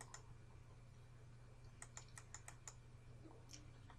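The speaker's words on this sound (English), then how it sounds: "So we're going to begin by getting the calculator, turning the calculator on," Calculator buttons are pressed in a quiet room: a few isolated clicks, then a quick run of faint plastic taps and a couple more near the end, over a steady low hum.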